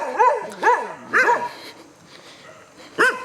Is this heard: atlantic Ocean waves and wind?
no